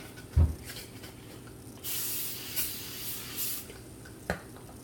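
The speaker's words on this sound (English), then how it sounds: "I spray some of this glass cleaner on top of it" A few quick hissing sprays from a pump bottle of glass cleaner onto a wet surface, close by, with a soft tap before them and brief pauses between bursts.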